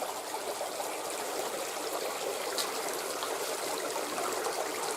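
Water seeps and trickles out of layered rock in a gulch in October, a continuous soft hiss of small flows running steadily without a break.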